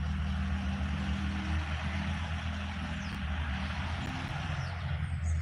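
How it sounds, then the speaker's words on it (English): A loud, odd-sounding truck rumbles past in a park after rain, its low, steady engine drone filling the whole stretch with no talk over it. "Boy, he's got a loud truck."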